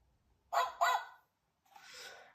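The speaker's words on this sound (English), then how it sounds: "Here is Daddy Dog and his mummy" A cartoon dog from Peppa Pig gives two quick barks close by, followed after a pause by a softer, breathier yelp.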